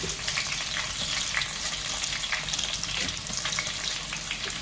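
Dried red chilies and garlic fry in a pan with a steady, dense crackling sizzle that holds at an even level throughout, close and loud, with no one talking.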